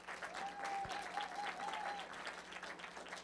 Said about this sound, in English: How about giving yourselves a round of applause?